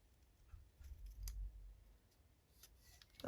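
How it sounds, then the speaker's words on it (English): Scissors snip the edge of paper while making an envelope, two or three quiet close cuts with soft handling noise in a hushed room. "So we just snip down there."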